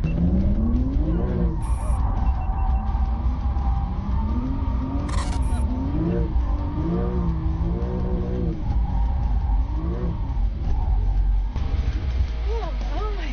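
Race car tires skidding and squealing on a track day circuit, with loud wavering engine roar and repeated rising squeals over about thirteen seconds, plus a couple of brief camera-like clicks.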